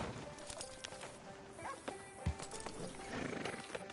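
A horse whinnies in the video game Red Dead Redemption 2 over a busy background of hoofbeats and ambient noise, with a low thump partway through.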